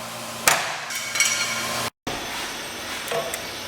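A few sharp hammer blows on a Mazda Miata being cut up for a kart build, two or three separate impacts with a brief gap between them, close by over faint background hum.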